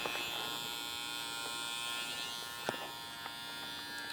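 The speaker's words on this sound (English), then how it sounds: "put the trimmer on the ear," Electric clippers buzz steadily and faintly as they trim a horse's ear, a continuous close hum with a few small bumps as the blades touch the ear.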